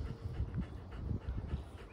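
A dog pants in quick, uneven breaths, close by and fairly soft, with faint whimpering noises mixed in over about two seconds.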